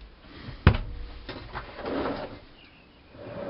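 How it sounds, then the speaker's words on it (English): Soft-close kitchen drawers in a 2013 Chausson Welcome 69 motorhome slide shut with one sharp thud, followed by quiet gliding and settling sounds nearby. "nice soft close drawers"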